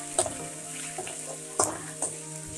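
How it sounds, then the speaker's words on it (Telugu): Homemade ginger-garlic paste fries in hot oil for aloo kurma, a steady close sizzle with a few sharp clinks of a spoon or spatula against the pan. "ఇది పచ్చి వాసన పోయే వరకు కొద్దిగా వేపుదాము నూనెలో"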